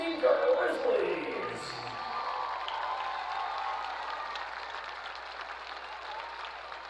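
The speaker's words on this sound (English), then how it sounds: "Let's hear one more round of applause for these outstanding girls, please." A crowd applauds the homecoming court at Grand Oaks High School, with whoops and cheers rising over the steady clapping at first. A voice speaks early on, then the clapping and cheering settle into a sustained wash.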